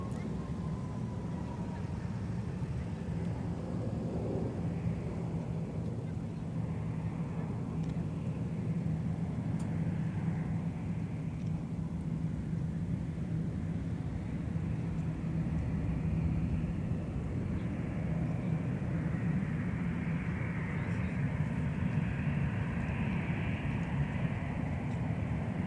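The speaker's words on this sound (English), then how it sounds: "we've also got the Delta Thank You livery. That is now going to be taxiing by us here in just a moment on its way to runway 17" A Delta airliner in the special Thank You livery taxiing toward runway 17 at Minneapolis–St. Paul airport, a steady low engine rumble and hum holding throughout at moderate distance, with faint wind noise.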